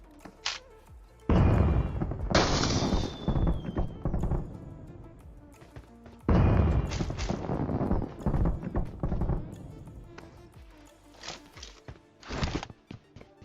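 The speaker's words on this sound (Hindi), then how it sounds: "ये फ्लेयर का पटाखे वाला साउंड कैसा लगा।" A flare gun fires in a video game on the Georgopol map, giving two loud firecracker-like bursts that each trail off in crackling pops, followed by scattered lighter taps.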